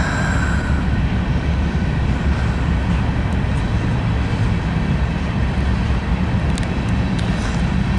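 Norfolk Southern freight locomotives hauling a train near Alliance, a loud continuous rumble and rolling rail roar that fills the whole stretch, heard close by with no talking.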